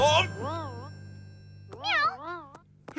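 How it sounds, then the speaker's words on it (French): A little cartoon cat called Précieuse lets out several high wavering meows, some drawn out and some short, between brief spoken voices in an animated scene. "C'est Précieuse, le petit chat."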